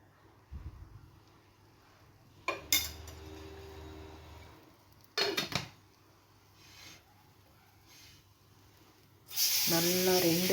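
Milk bread frying in oil for garlic bread: a few short sizzling bursts and soft clinks, then a loud, steady sizzle near the end.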